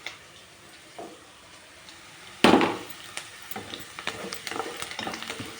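Onion pieces dropped into hot oil tempering with fried coriander seeds, bursting into a sudden loud sizzle that settles into steady crackling and spitting, with scattered ticks from the pan.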